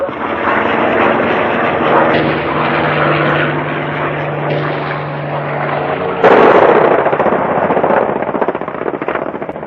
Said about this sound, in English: American planes are bombing only a few hundred yards outside the town.